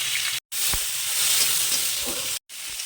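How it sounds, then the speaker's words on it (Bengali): Sliced onions and green chili fry in hot oil with a bright, continuous sizzle, close to the microphone. The sound cuts out in two brief silent breaks. "তেল গরম হয়ে গেছে, এই যে পেঁয়াজ কাটাগুলো এবার তেলের মধ্যে দিয়ে দেবো। ভালো করে লাল করে ভাজবো।"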